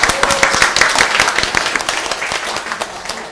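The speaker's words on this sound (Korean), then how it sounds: "그리고 우리 다시 한번 격려의 박수 부탁드립니다." A church congregation applauds during a Sunday worship service, dense steady clapping from many hands filling the room, fairly loud and continuous, with a faint voice briefly underneath.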